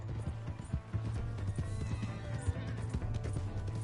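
Galloping horse hooves in Red Dead Redemption 2 clop in a steady rapid rhythm, fairly close and continuous, with a low game-engine hum underneath and brief shouting nearby.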